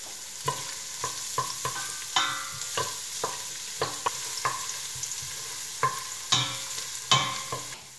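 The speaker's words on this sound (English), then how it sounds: "The garlic is getting brown now" Garlic frying in extra virgin olive oil in a pan, with a soft steady sizzle broken by repeated scraping clicks from a stirring utensil, close up and without any speech.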